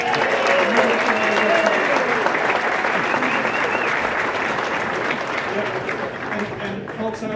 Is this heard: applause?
yes